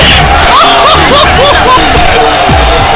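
Loud, dense crowd roar at a varsity high school basketball game after a slam dunk, with yells and whoops rising over constant hubbub for the whole stretch.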